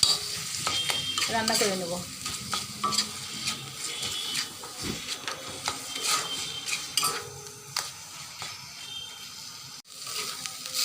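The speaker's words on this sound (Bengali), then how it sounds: "এর মধ্যে আমি এখন দিয়ে দেবো মাছের কিমাগুলো, নেড়ে ছেড়ে" Fish mince stirred and fried in a pan with cooked-down spices, a steady sizzle broken by scraping and clinking of a spatula against the pan, with a brief spoken line near the end.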